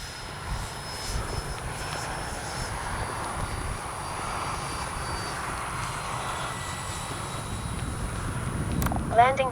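An FMS 70mm Yak 130 RC jet flies with a steady turbine whine and airy rush at moderate distance, growing louder toward the end, with people talking faintly alongside.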